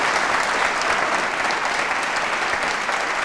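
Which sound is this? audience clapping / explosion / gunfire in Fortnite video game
audience clapping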